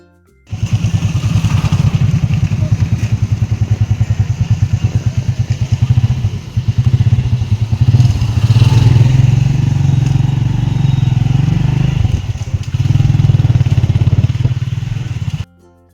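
A motorcycle engine runs steadily and close by with a throbbing low rumble, holding its pace for the whole stretch with slight rises in intensity.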